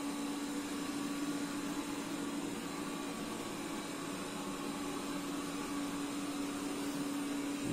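A Bagotte BG600 robot vacuum cleaner runs at maximum suction, giving off a steady, continuous whir and hum with a constant motor drone and no breaks, fairly close and loud throughout.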